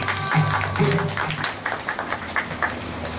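An outdoor candlelight rally crowd claps to welcome a singer to the stage. A faint voice and hum come first, then a run of distinct, moderately loud claps in a loose rhythm builds through the second half.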